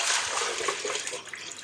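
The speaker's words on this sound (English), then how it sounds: "And I'm gonna fill it up full of water." Reverse osmosis water pours steadily into a bowl while an orchid is repotted into pumice, a close, continuous splashing rush that thins slightly toward the end.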